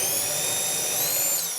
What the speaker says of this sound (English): Let me just chuck that in, see whether I can drill.